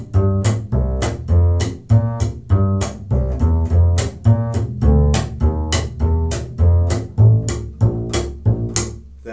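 A bass plays the first A section of a song as a steady run of plucked, rhythmic notes with a firm low end, heard alone without talk.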